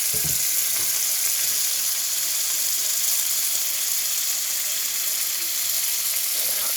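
Steady, even sizzling of a sandwich frying in a hot pan, bright crackle throughout with faint occasional clinks, no voices.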